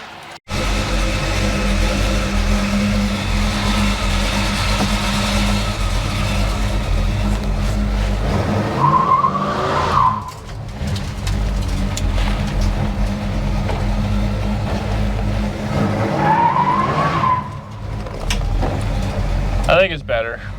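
Chevrolet Monte Carlo accelerating hard with tires spinning on gravel, a loud sustained engine roar building over about twenty seconds with rising revving sweeps, close by and continuous.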